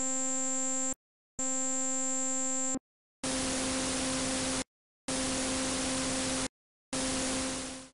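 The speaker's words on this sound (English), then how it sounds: "at a feedback amount of 7, we get a kind of pink noise" Harsh FM synthesizer feedback noise bursts, first two buzzy tonal blocks then three hissing, static-like pink-noise blasts at high feedback, each separated by brief silences.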